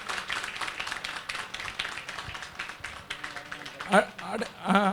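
Faint, steady clapping rises from the audience at a Tamil arts and literature conference in Delhi, with a voice talking over it toward the end.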